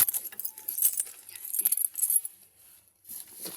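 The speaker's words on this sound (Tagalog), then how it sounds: "Yung susi." A bunch of keys jangles and clinks up close in bright, irregular bursts, with short pauses between shakes and no voices.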